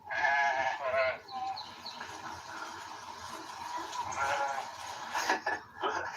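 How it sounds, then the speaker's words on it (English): Several sheep bleat on a farm with about nine ewes and newborn lambs nearby, calls overlapping and close, some loud and wavering, with quieter bleats between and faint background sound. "You saw the sheep. We have about 9 ewes"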